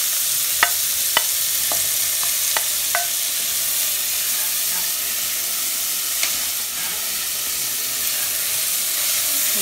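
Batter sizzles in a hot pan with a loud, continuous crackling hiss, broken by several sharp clicks and taps of a utensil stirring or scraping near the start.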